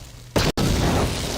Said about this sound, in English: That big of an explosion.